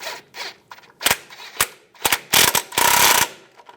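A ratchet wrench tightens the front brake hose bolt on a 2011-2018 Ram 1500 3.6L V6, giving short bursts of close, sharp clicking that grow longer and louder toward the end.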